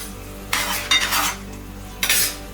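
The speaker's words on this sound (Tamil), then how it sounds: "இப்போ நம்ம பிழிஞ்சு வச்சுருக்கிற மீல் மேக்கரையும் ஆட் பண்ணிட்டேன்" Squeezed soy chunks (meal maker) go into a simmering sauce in a pan: a spoon stirs and scrapes in two bursts of wet, sloshing clatter, close and fairly loud, with a low bubbling background between them.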